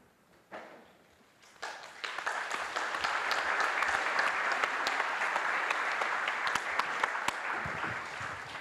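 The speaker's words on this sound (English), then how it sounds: "now we're doing the serious version of the rain clap for this fantastic panel" An audience performs a rain clap for a conference panel, starting with one finger. Light scattered tapping swells into a dense, steady patter of many hands that holds to the end.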